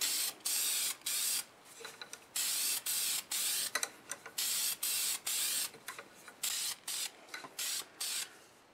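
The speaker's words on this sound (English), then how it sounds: "I'll go ahead and spray a good coat of lacquer on it now" An aerosol can sprays lacquer onto a segmented wood turning in short, loud hissing bursts, about a dozen quick pulses with brief gaps, close to the listener and without talking.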